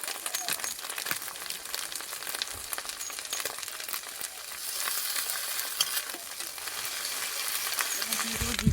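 Ginger garlic paste frying with onions in a pan while cooking a potol chingri dish, a steady dense sizzle that crackles without pause from start to finish, with occasional stirring scrapes and one brief firmer clank near the end.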